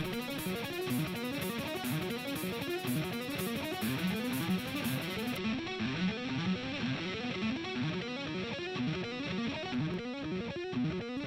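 A dry electric guitar plays a steady, repeating picked riff with a slightly gritty tone, continuous and fairly quiet, with no voices.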